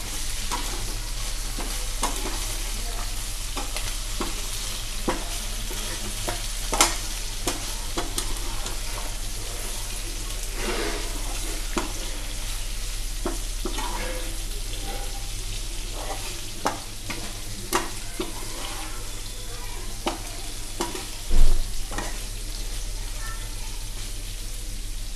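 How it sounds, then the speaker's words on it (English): Mutton frying in a covered-lid pan, sizzling continuously while a utensil scrapes and stirs in irregular strokes, with a low steady hum beneath and one louder knock near the end. "Now we have to mix the mutton."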